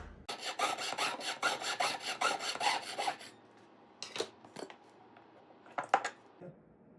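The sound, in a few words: scoring and cutting a piece of gold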